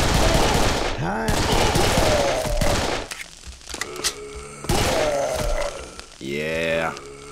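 Rapid bursts of automatic gunfire from the shooter game Serious Sam, loud and close, coming in two dense volleys separated by quieter gaps with scattered shots, mixed with game effects and a voice speaking over it.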